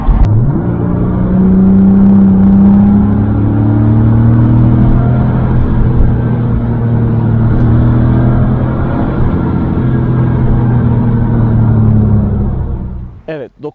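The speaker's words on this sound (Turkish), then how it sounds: "Otomobil yüksek devirlerde müthiş egzoz sesini size veriyor ve gerçekten çok eğlenceli." A Porsche 993 Carrera's exhaust gives a loud, sustained roar with steady low harmonics, revving high and holding for over ten seconds before cutting off abruptly.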